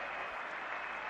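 A Test match cricket crowd erupts after a wicket falls, a steady dense roar of cheering and clapping that is distant and fairly faint.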